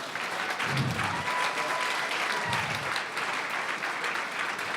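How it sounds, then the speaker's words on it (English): A crowd at the NSS 2013 Awards Gala applauds Dr. Mae Jemison, sustained clapping filling the room at a steady level, with a faint tone running through and a couple of low thumps. "Let's give her a round of applause."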